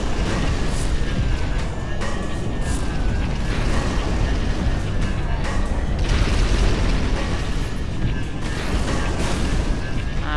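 A big mounted gun firing in Halo 2, heavy booming blasts rolling continuously under loud mechanical rumble, with no voices over it.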